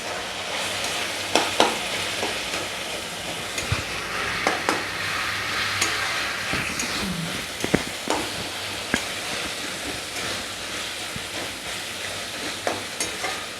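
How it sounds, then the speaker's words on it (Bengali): Chicken keema, marinated with lemon, sizzles and fries steadily in a pan, with repeated scraping stirs and occasional clinks of the utensil against the pan, all close and clear with no talking. "এবার এটা ভালো মতো ভাজা ভাজা হবে।"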